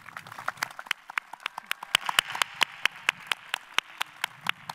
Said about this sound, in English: Please join me in one more round of applause for these faculty